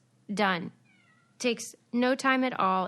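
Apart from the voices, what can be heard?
cat meowing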